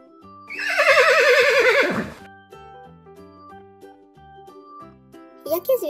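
A loud, quavering horse neigh lasts about a second and a half in a children's cartoon. Soft, plinking background music follows, then a brief bright burst at the end.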